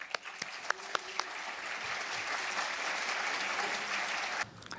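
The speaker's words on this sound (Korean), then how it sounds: "나오실 때 큰 박수로 환영해 주시면 감사하겠습니다" A hall audience at a national elders' retreat breaks into steady applause welcoming a lecturer of traditional Korean medicine, with a few sharp early claps swelling into a dense, sustained clapping that stops abruptly near the end.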